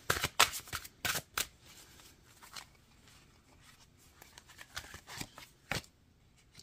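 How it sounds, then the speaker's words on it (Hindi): A deck of tarot cards shuffled before a single card is drawn: a few sharp riffling bursts close by, then softer scattered card slides and taps, with no speech. "एक कार्ड निकालेंगे।"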